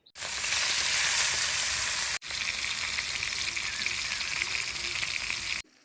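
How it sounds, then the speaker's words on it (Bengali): Koi fish sizzle loudly in hot oil in a home kitchen, a continuous close frying hiss with a brief break partway through, no talking. "টমেটো কোটা হয়ে গেছে, আবার মাছ ভেজে নেবো।"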